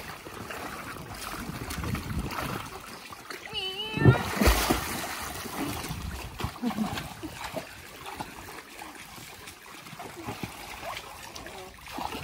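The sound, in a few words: waves splashing in a pool with inflatables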